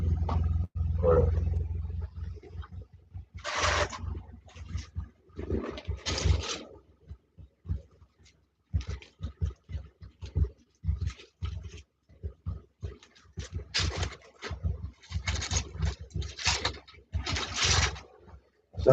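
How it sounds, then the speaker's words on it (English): A washing machine runs with a work uniform tumbling inside, giving a loud, low rumbling drone with irregular clunks and churning bursts that rise and fall over a long stretch. "the washing machine. I've got my work uniform going round in there."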